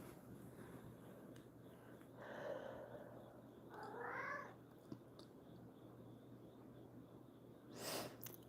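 A pet cat gives several faint, drawn-out meows spaced a few seconds apart over a quiet room hum, with a short snort or sneeze-like burst near the end.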